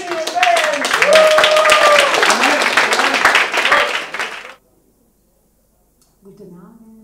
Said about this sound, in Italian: wünsche mir einen herzlichen Applaus für Marco Cellini und Ben.